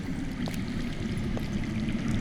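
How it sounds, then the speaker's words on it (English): Water runs underground in a Telltale Game of Thrones scene, a steady low rushing and trickling stream that stays constant and moderately loud, with faint drips on top. "That's water. I hear water. From underground."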